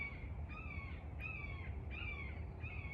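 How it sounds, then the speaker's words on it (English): Outdoors in spring, a bird calls with about four rasping caws spaced evenly apart, moderately distant and clear over a soft background hum. "there's that bird calling out."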